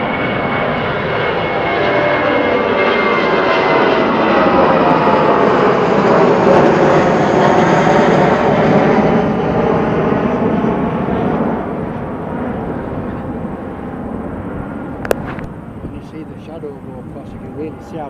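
Aircraft departing during plane spotting on an ANZAC weekend, with a loud sustained roar of the engines that slowly fades in pitch and level as the plane climbs away, while people talk over it.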